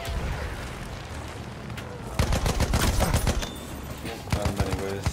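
Heavy gunfire in a Battlefield-style shooter game, dense bursts of automatic fire and loud booming shots clustering into a sustained volley, with voices talking over the battle.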